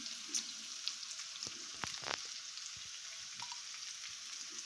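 Vinegar hits a pan of frying fish for Jamaican escoveitch, giving a soft, steady sizzle with scattered pops and crackles, moderately close and without talk.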